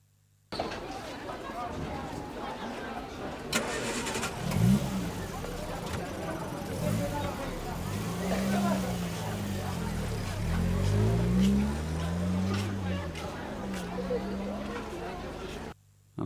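A recorded car engine plays back loudly and steadily for about fifteen seconds, with shifting low engine tones rising and falling as if revving, plus a brief louder bump near the start.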